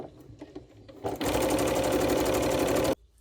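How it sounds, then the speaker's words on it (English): A sewing machine stitches the seam of a shift dress with a lap zip. Soft handling noises come first, then the motor runs in one loud, steady burst of close stitching for about two seconds and stops abruptly. "we're just going to sew ourselves the rest of the way down until we get as far as we can go before we hit the sewn up seam"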